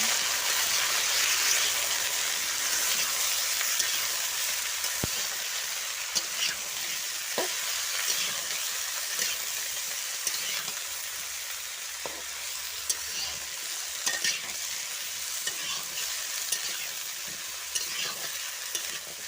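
Steady hiss of vegetables frying in a pan, with scattered clinks and scrapes of a utensil stirring throughout, close and continuous.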